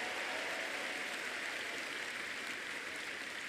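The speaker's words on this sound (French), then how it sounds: "Applaudissons pour" A church congregation applauding the Lord at the close of a service, a steady wash of many hands clapping that stays even throughout, heard at a moderate distance with no talk over it.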